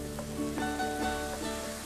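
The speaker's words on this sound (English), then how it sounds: "The only thing that you have to do is to wait for a little sizzle of oil around the garlic." Sliced garlic sizzling in hot oil in a pan, a soft steady frying hiss with faint crackles, heard close up with no talk.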